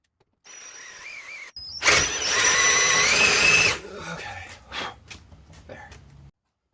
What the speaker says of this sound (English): I then used a Forstner bit again to drill recesses for some leg levelers.